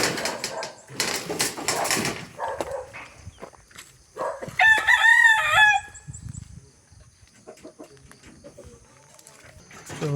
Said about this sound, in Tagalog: pagkain muna tayo ng manok mga kababayan. Nagugutom na sila. Ang ingay na.